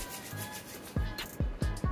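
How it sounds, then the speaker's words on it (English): Palms rubbing moisturizer product into short hair groomed for 360 waves, giving soft close-up friction swishes, steady at first and then several quick, louder strokes in a rhythmic sequence. "Make sure all the product is rubbed in."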